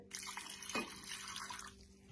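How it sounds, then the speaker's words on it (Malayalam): Water poured from a vessel into a pot of tomato rasam, a brief faint splash and trickle against quiet room tone with a steady low hum. "അപ്പൊ ഞാൻ അതാ കുറച്ച് വെള്ളം ഇതിലേക്ക് ഒഴിച്ചിട്ട്, വെള്ളം നല്ലോണം വേണമല്ലോ നമുക്ക്."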